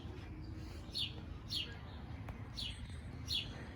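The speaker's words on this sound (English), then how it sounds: "You can hear the birds." Birds chirp in a summer garden in Texas, short bright calls repeating about four times over a low steady background rumble, fairly faint and distant.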